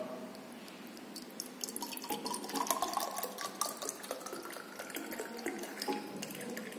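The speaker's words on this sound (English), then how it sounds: "This oil get poured into the bulbs." Oil poured into the cup of a Redwood viscometer in a lab, a steady liquid trickle with small drips running continuously and fairly close, no talking.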